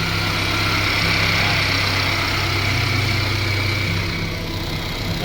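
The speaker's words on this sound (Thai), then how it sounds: "นี่ครับสตาร์ทแล้ว" Freshly started Mercedes-Benz GLA W156, which has a battery warning light fault, idling at close range: a continuous, level engine hum with a faint vibration that eases slightly near the end, with no speech.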